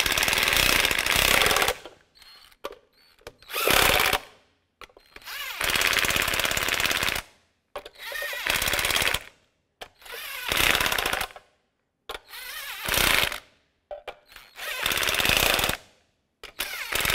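A power tool threading a wheel nut cap onto a Chevrolet Express 3500 rattles in repeated short bursts of rapid hammering, each a second or two long, separated by brief silences.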